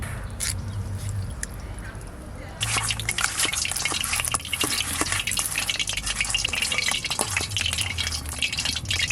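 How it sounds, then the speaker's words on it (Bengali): Koi fish rubbed with salt and turmeric frying in hot oil in a wok. A quieter hiss gives way to a loud, steady crackling sizzle with dense popping that continues to the end. "কড়াই তেল দিয়ে দেবো, কড়াই গরম হয়ে গেছে"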